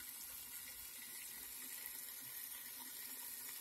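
A steady, faint hiss of sizzling in a hot pan, a constant bubbling crackle with no voices.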